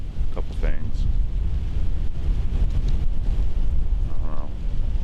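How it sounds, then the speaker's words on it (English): Steady wind rushes and buffets the microphone outdoors during a Pennsylvania rifle whitetail deer hunt, a constant low roar filling the whole stretch with a faint voice briefly underneath. "This wind"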